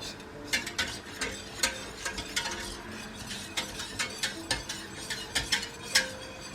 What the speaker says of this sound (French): Vas-y, n'arrête jamais de remuer. Toujours remuer, remuer, remuer.